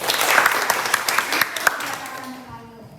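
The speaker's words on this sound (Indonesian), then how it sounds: "Jadi tepuk tangan buat teman-teman." Applause from a group of fellow participants in a classroom teaching-practice session, a dense patter of many hands that swells briefly and then fades out over about three seconds.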